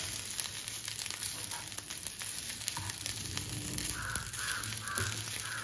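Tempering spices in hot oil in a pan for a breakfast dish sizzle and crackle steadily, with close stirring and scraping sounds mixed in and no talking.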